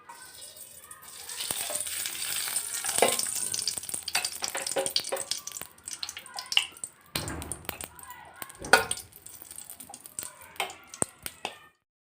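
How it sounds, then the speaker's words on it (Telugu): Raisins frying in ghee in a pan (kadai) on a stove, a steady sizzle with stirring clatter and spoon scrapes over twelve seconds, close and fairly loud, with talking now and then. "కిస్మిస్ వేయించుకోవాలి."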